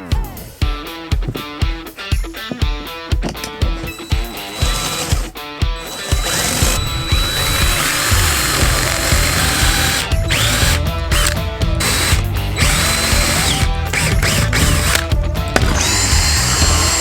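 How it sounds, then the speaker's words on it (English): A power drill bores holes into a fiberglass teardrop camper, opening with a rapid run of ratcheting clicks and then settling into a loud, continuous whir of the drill grinding into the shell. "Now I'm just gonna start drilling."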